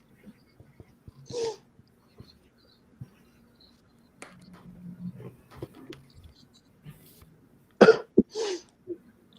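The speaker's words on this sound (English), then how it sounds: "Also the first of many coughs I will utter during this match" A person with a head cold coughs a few times, with sharp bursts separated by long quiet gaps and a double cough near the end. A low murmur sits between them.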